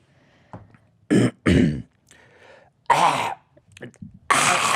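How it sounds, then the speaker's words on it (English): A person with acid reflux clears their throat in several loud, harsh, close bursts separated by short pauses, with a faint murmur between them. "Clear your throat."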